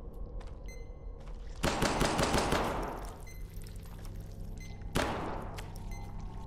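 Gunfire rings out in the video game Hidden Deep, two loud bursts of rapid shots, the first a longer volley with a decaying tail and the second a shorter sharp burst.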